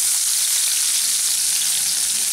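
Chopped onion drops into whole spices frying in hot oil, giving a loud, close, continuous hiss and sizzle. No voices are heard.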